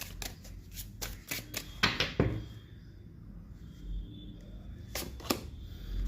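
Tarot cards shuffled and drawn close by, a quick series of crisp riffling snaps and flicks, then quieter handling and a couple of final card slaps.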